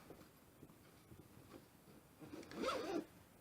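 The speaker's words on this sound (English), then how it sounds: "I'm just testing out the zips" New zips on a handmade bag are pulled open and shut, soft scratchy rubbing that ends in one louder, clear zipping pull close by.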